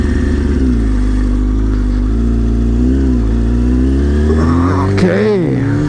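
A motorbike engine runs steadily close by while the rider struggles to turn the bike around, its tone rising and falling with small revs and a brief clatter near the end.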